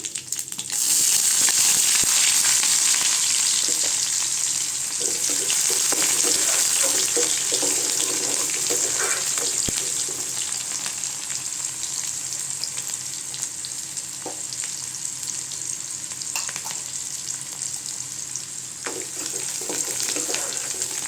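Onions, fennel seeds and curry leaves fry in a pan for okra gravy, a steady loud sizzle running throughout with occasional stirring clinks, no talking.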